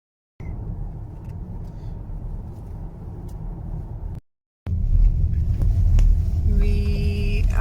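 Low, steady road rumble inside a Škoda Enyaq iV80 electric car driving uphill toward Velika Planina, broken by a brief cut before the rumble resumes louder, with faint tonal beeps near the end.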